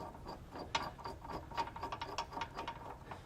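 Lock nut being tightened onto a leaf spring suspension bolt on a 2022 Jayco Eagle travel trailer, giving a quiet run of quick metallic ratcheting clicks with a few sharper ticks.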